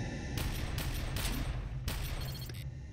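Rapid pistol gunfire in a VR shooter game, Bullet Train or Space Pirate Trainer, with four or five sharp bursts over a steady low rumble of background game noise.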